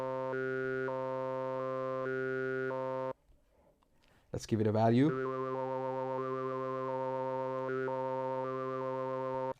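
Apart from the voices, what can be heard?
KASPAR iPad synth sequence with LFO modulating filter resonance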